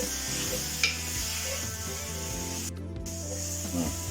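Spice powders of coriander, chili and garam masala stirred into a prawn curry cooking in coconut milk in a pan, with a soft sizzle under repeated scraping strokes of a spoon, close and continuous.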